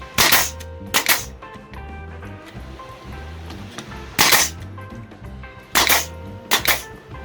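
Sharp, loud pops from a Harbor Freight 16 gauge finish nailer, model 68023, firing in pairs with pauses between, over a low hum of background noise.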